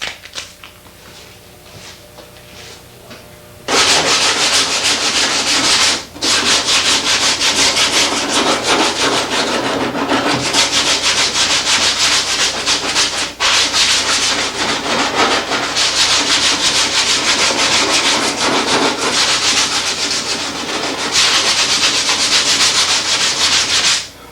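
Car body metal being sanded by hand with 80 grit sandpaper: after a quiet start, loud close rasping strokes run continuously with a few brief pauses, harsh and scratchy throughout.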